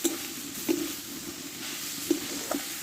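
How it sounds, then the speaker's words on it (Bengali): Drumstick leaves (sajne shak) fry in a pan with a steady soft sizzle. A utensil gives a few light scraping taps against the pan. The sound is fairly quiet and close, with no talking. "শাকটা ভাজা ভাজা হয়ে গেছে"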